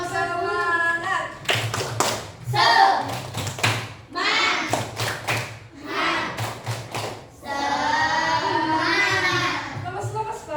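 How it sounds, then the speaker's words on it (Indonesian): A class of fourth-grade pupils claps a rhythmic spirit clap in a classroom, sharp bursts of hand claps in patterned groups alternating with children's chanting voices. "Tepuk semangat."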